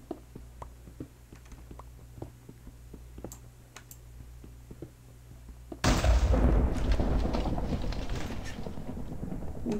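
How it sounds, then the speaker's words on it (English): Quiet scattered clicks and taps, then a sudden loud rumbling explosion in the video game Minecraft, modded Fallout adventure map, bursts in and keeps roaring until the end. "Is that an explosion?"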